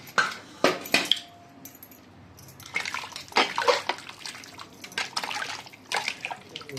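Hot water is poured over goat trotters in a pot, arriving in uneven splashing bursts with short pauses between pours and no talking.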